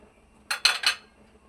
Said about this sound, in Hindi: ये 2 टेबल स्पून मैं इसमें शक्कर डाल रहा हूँ।